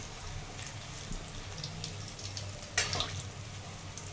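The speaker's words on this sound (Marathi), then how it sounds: "आपल्याला छान कमी गॅस करून तळून घ्यायचे आहेत" Onion bhaji (kanda bhaji, onion and besan batter) frying in hot oil over a low gas flame gives a soft, steady sizzle and faint bubbling crackle, quiet and close, with a brief sharper burst of spattering partway through.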